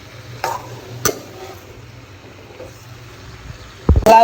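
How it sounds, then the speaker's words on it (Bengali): Bottle gourd frying in a pan, stirred with a few sharp clinks of the utensil against the metal and a soft steady sizzle underneath, with a louder scrape near the end. "লাউ ভাজা শুরু করে দিয়েছি"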